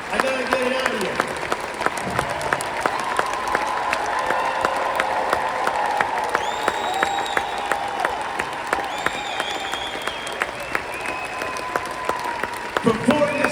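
A large congregation claps together in a continuous, even rhythm at an inspirational gathering, with a preacher's amplified voice talking over the sustained beat.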